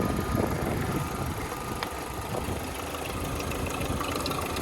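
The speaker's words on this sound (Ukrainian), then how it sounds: "Двигун працює чітко." An Opel Zafira 1.8 engine idles steadily at low volume, a continuous rumble with faint mechanical ticking and no talking.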